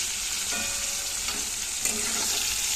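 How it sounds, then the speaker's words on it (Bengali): Pumpkin frying in a pan gives a steady, close, dense sizzle throughout, with faint scrapes and stirring clicks mixed in. "এই যে কুমড়ো ভাজছি।"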